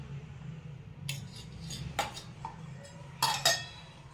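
A metal spoon clinks against a pot as a spoonful of ghee goes into millet-flour chola dhokli, a few sharp, light taps spaced out over a quiet background.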